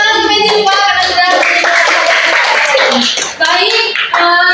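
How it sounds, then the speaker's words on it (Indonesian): Classroom applause, a loud burst of many hands clapping mixed with children's voices and chatter throughout. "tepuk tangan untuk Meji Pak karena sudah"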